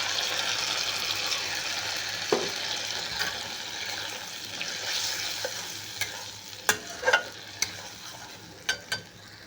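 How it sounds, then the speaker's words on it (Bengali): White mustard and green chili paste sizzles steadily in a wok, a continuous hiss of frying broken by a few sharp clinks and scrapes of stirring near the end. "এবারে এই কড়াইতেই আমি আর তেল দেবো না, ওর মধ্যেই আমি যে সাদা সর্ষে কাঁচা লঙ্কা বেটে রেখেছিলাম সেই পেস্টটা দিয়ে দেবো।"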